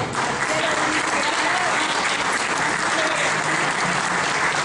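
Steady, dense applause from an audience at a municipal award ceremony in Córdoba, Argentina, holding at an even, fairly loud level throughout with no break.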